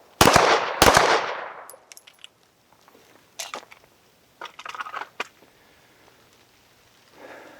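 Two loud gunshots ring out close together during handgun shooting practice focused on recoil control and grip, followed by metallic clinks and handling noises and a faint later rustle.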